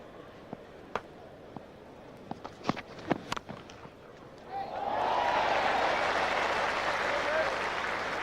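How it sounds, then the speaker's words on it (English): Cricket stadium crowd in an England versus West Indies match, a few scattered claps and thuds at first, then a sudden loud, sustained roar of cheering and applause swelling up and holding steady to the end. "Roar from the crowd"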